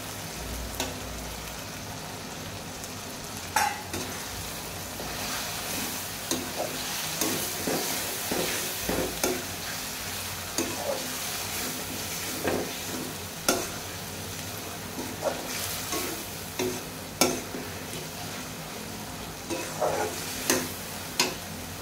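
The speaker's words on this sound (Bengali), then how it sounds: "কচুগুলো দিয়ে কিছুক্ষণ নেড়ে চেড়ে কষায় নেব।" Taro and shrimp are stir-fried in a pan, a steady sizzle punctuated by regular sharp scrapes and taps of the spatula, repeating every second or two, close and moderately loud.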